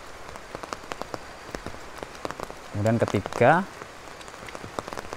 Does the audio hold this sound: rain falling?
yes